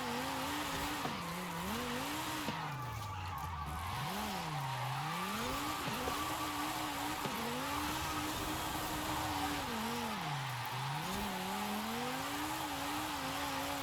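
A 1,000+ horsepower car drifts around a small, twisty custom track in Forza Horizon 5, its engine holding a loud, continuous note that swoops up and down with throttle changes over a constant wash of tire squeal.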